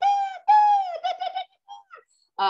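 A person's voice imitates an oystercatcher call with a few loud, clear, piping whistled notes, two long ones followed by quicker broken ones, close and alone.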